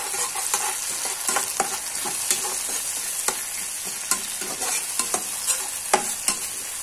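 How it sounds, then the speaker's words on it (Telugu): Cabbage manchurian being mixed with tomato sauce in an oily pan, a dense continuous sizzle with frequent sharp spatula scrapes and taps against the pan, close, with no talk. "ఆయిల్ పైకి వచ్చే వరకు మనం దీన్ని మిక్స్ చేసుకుందాం"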